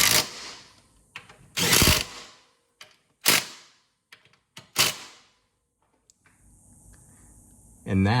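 Socket tool working bolts on a CTS Turbo 3-inch downpipe for a 1.8 turbo 2016 VW Passat, giving several separate ratcheting bursts and clicks with gaps of quiet between them, close by, ending in a steadier rush of noise.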